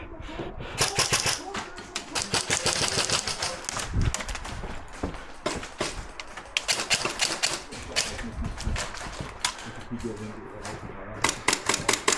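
Rapid bursts of airsoft gunfire during an outdoor fortress-assault game, sharp clustered shots crackling near and far throughout, with players shouting and talking over the firing.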